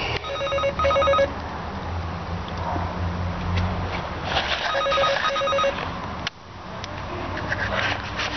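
Telephone ringback tone repeating through a phone line during a call, steady electronic rings in bursts with a brief dropout near the end, fairly loud and without talk.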